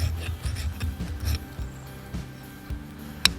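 A ferro rod being scraped to shave off a pile of flakes, repeated rasping strokes close up, ending in a sharp click.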